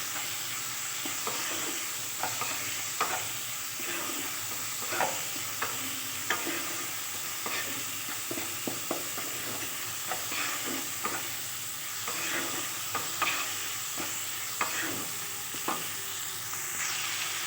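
Fish being stirred in a frying pan with salt and turmeric, giving soft sizzling frying under repeated scraping taps of the spoon against the pan, steady and close with no talking.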